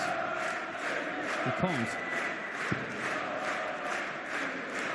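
A darts championship crowd in Germany keeps up a steady crowd noise with scattered shouts, fairly distant. A commentator's voice is briefly heard over it.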